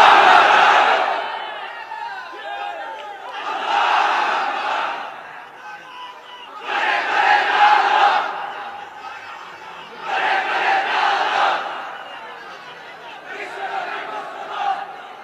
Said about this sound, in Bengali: তাকবীর পড়েন তো দেখি।